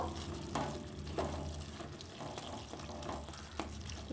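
Garam masala and ghee are stirred into a shrimp malaikari in a sizzling pan: steady frying hiss with a spoon scraping at intervals, close and moderately quiet.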